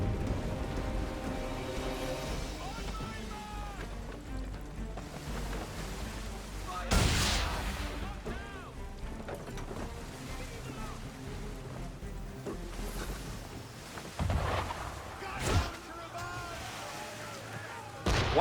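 Naval cannons boom in Assassin's Creed 3 ship combat amid rain and sea noise, with a few heavy blasts standing out over a constant rushing bed of weather, music and voices talking.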